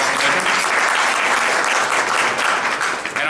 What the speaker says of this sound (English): Could we have a warm applause for Dr. Hedman?